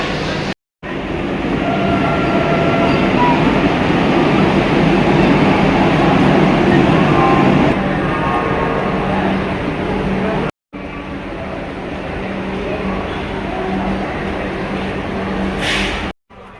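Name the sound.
Tamralipta Express train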